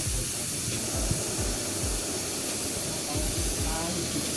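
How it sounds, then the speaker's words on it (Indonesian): An aerosol spray can coats a scratched shock absorber with a continuous hissing spray that holds steady throughout, close and fairly loud, with faint rhythmic knocking underneath. "kita semprot untuk bagian yang satunya lagi"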